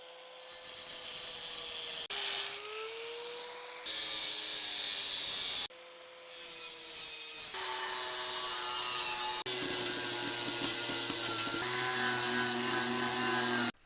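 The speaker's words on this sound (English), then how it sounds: "I think I'm going to use a angle grinder with a cutoff wheel" An angle grinder with a cutoff wheel cuts into a damaged John Deere metal panel, a loud sustained whine that shifts pitch as the load changes, interrupted by brief stops and restarts.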